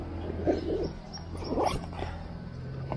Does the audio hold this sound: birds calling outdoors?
yes